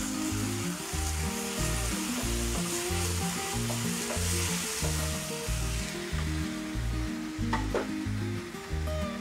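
Milk cream sizzles loudly in a hot pan during preparation of egg korma, a dense continuous frying hiss with occasional soft stirring scrapes and no voices.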